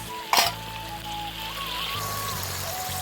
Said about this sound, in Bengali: এবার উপর থেকে একটু তেল দিয়ে দিব, গরম করে রাখা তেল